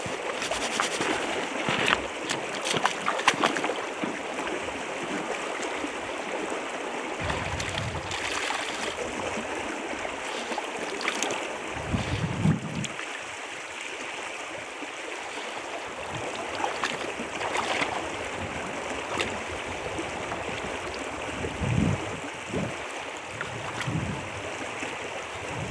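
River water flows steadily in the open air as a meat bag is rinsed clean, a continuous moderate wash with occasional splashy surges.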